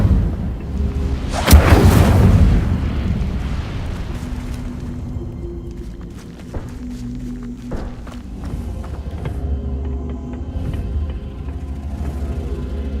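The Incendio fire spell in the Hogwarts Legacy video game bursts out as a loud whooshing blast near the start, then fades into low rumbling and scattered crackles and footsteps.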